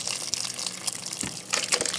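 Whey and curds for fresh mozzarella pour into a large cheesecloth: a steady, close gushing and splashing of liquid with small surges, heard alone.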